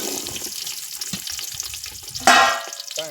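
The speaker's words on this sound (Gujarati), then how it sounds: "ડુંગળી નાખે એટલે ડુંગળીને આવી રીતે તળવાની છે." Onions frying in hot oil make a close sizzle and stir, then a sudden louder burst of crackling hiss partway through, which settles back down near the end.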